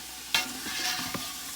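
A spatula scrapes and stirs collard greens in a hot pan, two or three quick strokes over a soft, continuous sizzle, close by.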